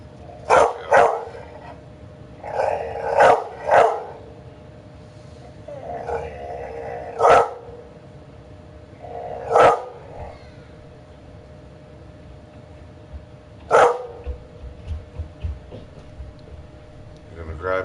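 A dog barks in sharp, loud bursts, about eight barks spaced irregularly with quiet gaps between them.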